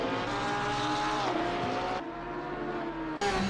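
Racing cars braking into the Corkscrew turn, engines whining in high sustained tones that drop in pitch as they slow, then a sharp cut and a renewed engine note near the end.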